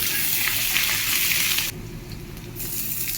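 Bay leaf, chopped ginger and garlic fry in hot oil for masoor dal, giving a steady, close sizzle that drops to a softer hiss partway through and then rises again.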